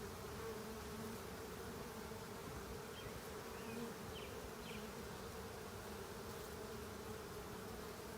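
Honey bees at a large top bar hive hum in a dense, continuous buzz that holds steady and even throughout, close by and unbroken, with no voices.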